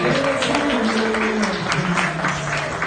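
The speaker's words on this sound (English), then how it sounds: "applause to the bride." Guests applaud the bride at a wedding celebration, steady clapping heard beneath music and a murmur of voices throughout the short stretch.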